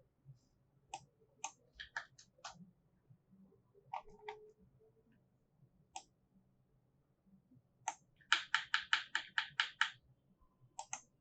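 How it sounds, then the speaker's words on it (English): Typing on a computer keyboard at a desk, with scattered single key clicks and short bursts early on, then a quick run of about ten crisp, louder keystrokes near the end, close up with no speech. "And here you can write Mark Zuckerberg."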